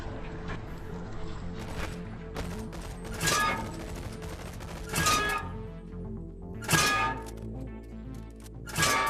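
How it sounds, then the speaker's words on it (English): Gunfire in the VR shooter BONELAB sounds in several loud sharp bursts with ringing tails, spaced a couple of seconds apart over a steady game hum, with no talking. "Put my gun at them. I'll start shooting them."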